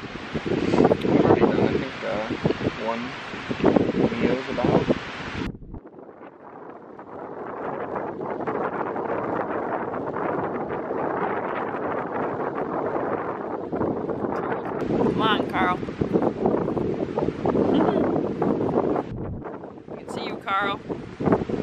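Strong wind buffets the microphone on a Pictured Rocks lakeshore during a backpacking hike, a loud, continuous roar with gusts that rise and fall and brief cuts between them.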